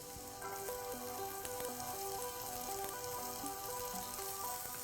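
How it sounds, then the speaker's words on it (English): Chopped onion hitting a hot pan after ginger, with a soft continuous sizzle under faint background tones, quiet and steady, no talking. "Now we'll go ahead and add some onion"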